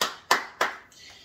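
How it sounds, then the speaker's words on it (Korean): Three sharp hand claps in quick succession, close and crisp, followed by a softer fourth tap, with no talk. "와우! 박수!"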